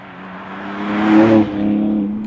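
A BMW X4M Competition SUV accelerates hard, its engine note climbing in a strong rising roar that peaks midway, dips briefly, then keeps pulling loudly; heard up close with no talking.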